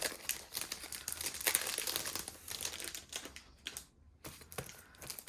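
Tokyo edition Traveller's Notebook being unwrapped, with crisp crinkling of plastic and paper packaging and light tearing, steady and close, broken by a brief quiet pause.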